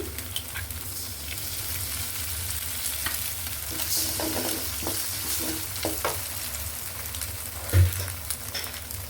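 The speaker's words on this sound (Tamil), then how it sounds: "இனி இதுக்குள்ளே நான் முட்டையை உடைச்சி ஊற்றி விட போகிறேன்." An egg fries in a hot pan while bread upma is stirred, giving a continuous sizzle with scraping stir strokes and a sharp clink near the end. The sound is moderately close, with no talking.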